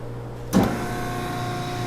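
Hydraulic shear's motor powering on: a short thump and surge at startup, then a steady electric hum with tonal whine held for the rest of the moment.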